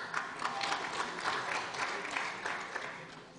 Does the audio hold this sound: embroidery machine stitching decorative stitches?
no